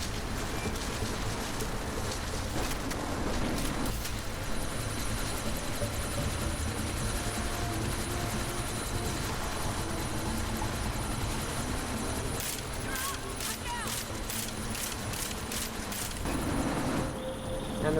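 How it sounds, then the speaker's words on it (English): A chopper in Deus Ex: Mankind Divided, idling before takeoff, with a continuous close rotor drone and rapid beating blade chops, a steady whine on top, no voices. "That chopper's about to take off."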